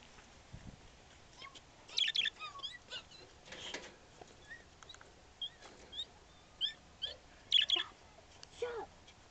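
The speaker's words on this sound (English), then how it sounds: "This is the birds video of them saying cutie." Pet birds in a home give scattered high chirps and short calls across the clip, some sharper peaks standing out, with faint talk and household noise in the background.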